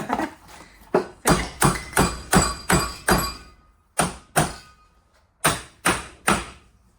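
Repeated loud metallic hammer blows on Porsche car parts in a workshop ring out in uneven bursts, several quick strikes, then pauses, then more strikes, close up.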